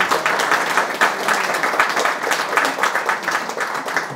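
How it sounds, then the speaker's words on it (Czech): An audience at an indoor evening event in memory of Karel Kryl applauds, producing dense, sustained clapping that holds steady throughout with no voices over it. "Možná můžeme určitě zatleskat."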